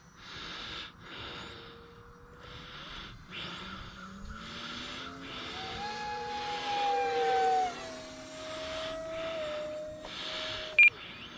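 An E-flite Habu 50mm electric ducted-fan RC jet makes a flying pass, its whining fan rising and shifting in pitch as it sweeps by at moderate distance, steady throughout, with a brief sharp click near the end.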